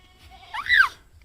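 A young goat kid lets out a single short, rising-then-falling bleat, close and fairly loud, over quiet background with faint low rumble.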